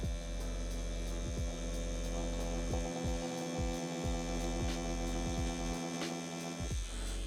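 A tattoo machine fitted with a small needle buzzing steadily and faintly during line work, a constant low electric hum with repeated brief pitch dips as it runs.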